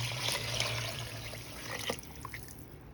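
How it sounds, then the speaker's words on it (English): Water pours from a measuring vessel into a pot of beans for lentil soup in a home kitchen, a soft steady trickle and splash that fades toward the end, close and alone. "I measured out 8 cups of water, so I'm going to put that into the beans."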